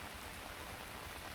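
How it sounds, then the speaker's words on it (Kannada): Heavy, continuous rain pours on Bengaluru during a six-hour downpour that floods the roads. It makes a steady, dense hiss of rainfall with no talk. "ಸತತ 6 ಗಂಟೆಗಳ ಕಾಲ ನಿರಂತರವಾಗಿ ಮಳೆಯಾಗಿದೆ."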